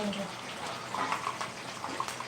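Running water from a tap rinses a fish in a home kitchen sink, a steady splashing gush with brief bright spatters, while a voice talks over it.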